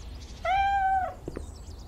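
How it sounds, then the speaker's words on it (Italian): A black kitten in the Cafe Owner Simulator video game gives a single clear, drawn-out meow lasting about half a second, followed by a couple of faint soft clicks, with no talk. "bello, il gattino nero"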